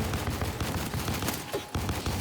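Sustained gunfire in the sci-fi shooter Space Marine 2, rapid overlapping shots blending into a dense, loud barrage against monsters in a swamp, with a brief drop in the middle before the firing resumes.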